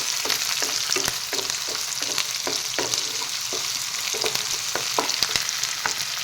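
Onions fry in a pan until browned for an Assamese-style pigeon curry, giving a steady hiss with a crackling sizzle and a stirring scrape every second or so, close up, with no talk.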